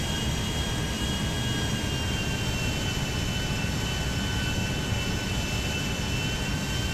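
A large airplane's engines roar in a steady, loud, unbroken wash of jet noise with faint whining tones on top, close and alone with no voices.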